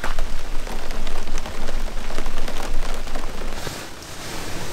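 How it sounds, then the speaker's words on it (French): Rain drums on a 4x4 vehicle in Africa, a loud, close, broadband patter with irregular heavier bursts that never lets up over the short stretch. "Il pleut, on est dégoûté"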